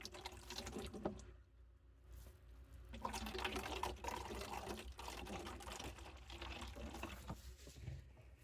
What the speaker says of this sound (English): So I'm going to carefully pour it this way into the container.